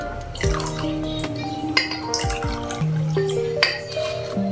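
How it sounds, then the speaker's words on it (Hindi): Lukewarm water poured out of a cup while making pizza dough, a continuous close trickle and splash with small clinks of glass, heard alone. "तो इसमें से हम थोड़ा सा पानी पहले निकाल लेते हैं।"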